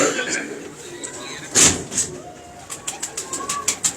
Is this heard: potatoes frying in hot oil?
no